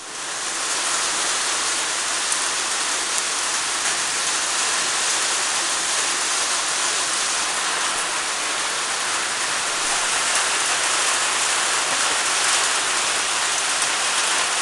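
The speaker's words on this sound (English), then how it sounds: "It's wet, raining, and it's cold." Steady, loud rain pouring down on a wet, cold winter day near Lake Mulwala, a dense unbroken hiss with no voices.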